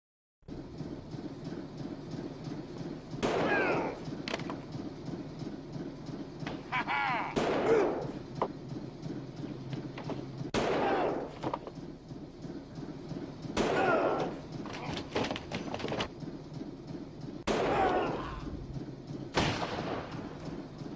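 Gunshots from the video game Mad Dog 2 ring out as about six loud, separate blasts at uneven gaps, each one trailing into a rumbling echo over a constant low background hum.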